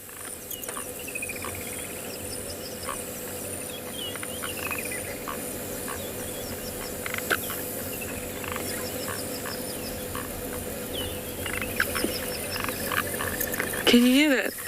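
Frogs croak in repeated short calls at Tswalu in the Kalahari, set against a constant bed of chirping insects, with one louder, closer call at the very end.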